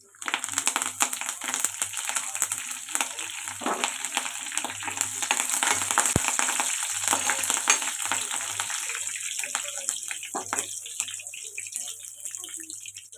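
Crushed garlic and curry leaves crackle and sizzle in hot oil in a pan, a dense, steady frying hiss with occasional stirring, settling slightly quieter toward the end.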